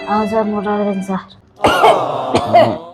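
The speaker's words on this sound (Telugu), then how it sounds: "మూడు రోజుల నుంచి ఒకటే దగ్గు సార్" A person with a three-day cough and heavy cold coughs and clears their throat up close, with a voice sounding before the harsh bursts.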